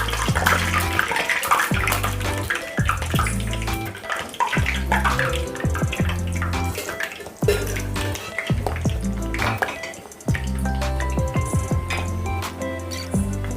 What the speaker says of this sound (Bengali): পকোড়াগুলো ভেজে নেব